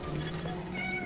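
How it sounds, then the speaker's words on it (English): Cat meowing loudly in the background of a Division 2 beta livestream on PS4, a single drawn-out wavering call lasting about a second, faint under game sound. "That cat is very loud."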